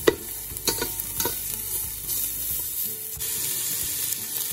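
Garlic frying in olive oil, an opening burst of sharp spits and pops that settles into a steady, close sizzle, with no speech over it.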